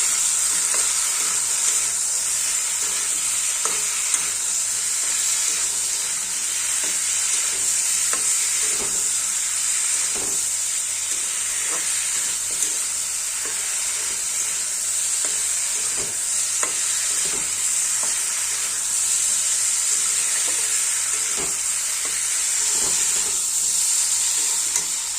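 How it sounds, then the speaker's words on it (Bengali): Rohu fish with chili powder and sugar sizzles steadily in a hot pan while being stirred, a continuous close frying hiss broken by scraping and clinking of the spatula, no talk. "ভালো করে এবার কষিয়ে নেব।"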